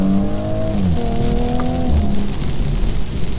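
A 2017 Audi S5 coupe accelerates hard through a 0-60 run, its engine note climbing steadily in pitch close by with continuous road and wind noise underneath.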